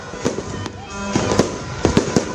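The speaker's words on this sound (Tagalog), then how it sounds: "sabay-sabay na nagliwanag ang kalangitan sa nagagandahan at makukulay na fireworks display" New Year fireworks burst over Boracay's White Beach, with several sharp, loud cracks and pops spaced irregularly against a continuous background of crowd noise and horns.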